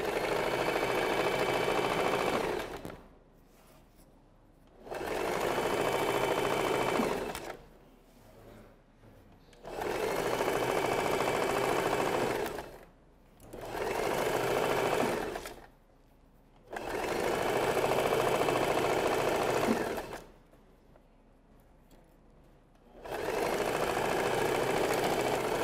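A sewing machine straight-stitches the side seam of a dress in six steady bursts of whirring, each a few seconds long and separated by short quiet pauses, close and clear.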